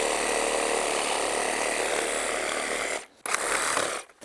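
A medium-sized Husqvarna Rancher chainsaw cuts small scrubby brush outdoors in an Alaskan spring, its engine buzzing loud and steady for about three seconds, then briefly cutting out, revving again and stopping.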